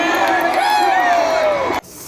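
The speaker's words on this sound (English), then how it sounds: "you can hear it as the crowd roars when he pulls into first place" NASCAR race crowd roaring loudly and steadily as Dale Earnhardt Jr. moves into first place, a dense wash of cheering and whoops that cuts off abruptly near the end.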